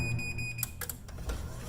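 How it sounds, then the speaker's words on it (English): Several short electronic beeps chirp at the start from a LiftMaster LJ8900W side-mount garage door opener, followed by mechanical clicks and clunks close by, with no talking. "So that beeping means stand back"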